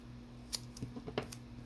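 Scissors snip into both edges of an artist trading card (ATC) during collage work, a few close, quiet cuts with short crisp bursts and no talk.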